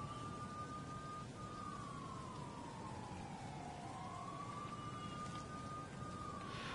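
Steady hissing rain over New York in the video game Spider-Man PS4, a constant wash of noise with a police-style siren wailing and sweeping in the background throughout.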